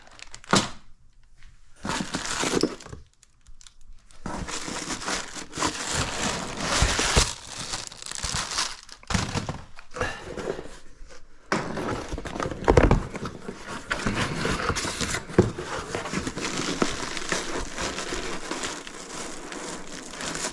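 Plastic and paper packaging crinkling, crumpling and tearing as boxed truck intake parts for a 2019 Ram are unwrapped, in bursts of rustle with short pauses, close and fairly loud.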